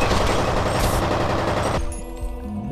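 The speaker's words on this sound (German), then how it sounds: "Sinnlos rumschießen bringt dir jetzt auch nichts mehr" Rapid gunfire bursts from the first-person shooter game F.E.A.R., loud and dense with overlapping shots, ending abruptly partway through and leaving quieter game ambience and a few faint sounds.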